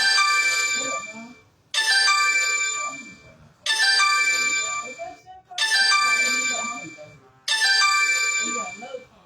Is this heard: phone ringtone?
yes